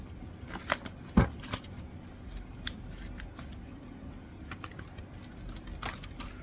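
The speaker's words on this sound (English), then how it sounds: "make sure we shuffle them good" Soft papery riffling with scattered sharp ticks and flicks, like cards being shuffled close by. Quiet, with no talking.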